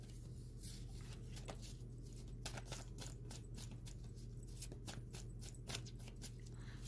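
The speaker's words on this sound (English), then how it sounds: "Shuffle two more times with this." Tarot cards are shuffled in quick, soft riffling bursts, fairly faint and close, repeating in a loose rhythm over a steady low hum with no talking.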